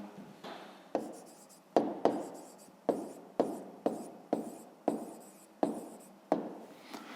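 A pen writes an answer by hand in a series of about a dozen short scratchy strokes, each starting with a sharp tap and fading, close and quiet with no talking.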